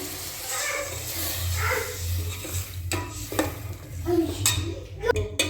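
Water poured into roasted biryani masala in a pot stirs up a hissing, bubbling sizzle, with utensil scrapes and a few sharp clatters near the end, and a voice talking faintly over the cooking.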